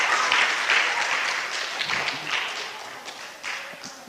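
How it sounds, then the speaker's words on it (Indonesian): A church congregation at an Easter service applauds a young man, a moderate round of clapping that starts full and gradually thins and fades, with a few scattered claps near the end. "Tepuk tangan dulu untuk pemuda tampan itu."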